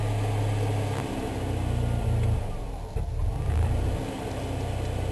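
An Onan RV generator engine runs with a low, uneven rumble, stumbling briefly around the middle as it cuts back in and picks up again, close and steady throughout.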